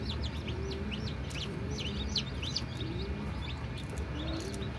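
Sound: newly hatched Egyptian chicks chirping

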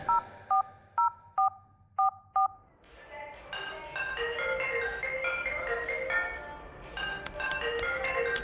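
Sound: telephone number being dialed, DTMF tones

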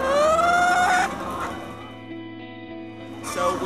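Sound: free-range hens clucking in a barn

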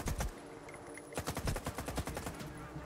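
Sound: gunfire in the video game S.T.A.L.K.E.R. 2

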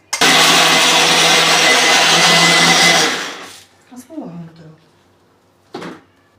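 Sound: mixer grinder crushing grated coconut and jaggery

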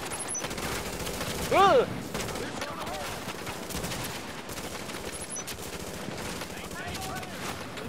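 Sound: gunfire from a firefight in the video game The Division

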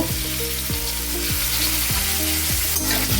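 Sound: potatoes frying in ghee

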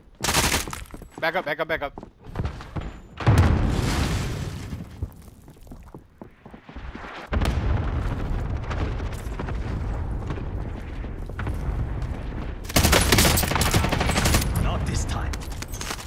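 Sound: gunfire in Call of Duty: Warzone video game

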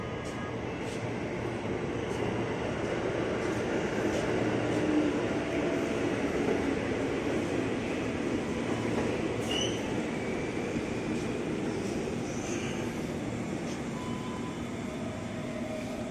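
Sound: commuter train at station

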